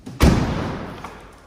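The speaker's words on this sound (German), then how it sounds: "Ich mache jetzt hier einfach die Tür zu." A door on a CNG-powered VW T5 van is shut with one heavy, close thud, followed by a short fading resonance.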